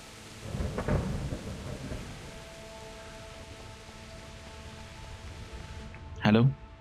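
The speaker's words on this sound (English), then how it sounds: "It's raining all the time, man." Steady rain pours in the medieval game Kingdom Come: Deliverance as a constant wash of noise, with voices talking over it early on and a sharper burst near the end.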